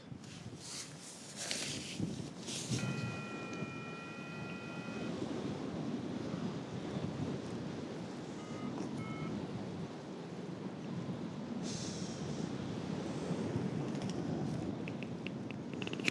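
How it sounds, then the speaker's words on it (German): Strong Alpine wind buffets steadily for a long stretch, a broad rushing roar with gusty swells, and a few faint bird calls briefly rise above it. "Puh, ein starker Wind"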